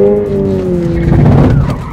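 A car pulls a side turn, engine roaring with harmonic whine as the tires break into a loud, broadband skidding squeal midway, near and sustained; no talk over it.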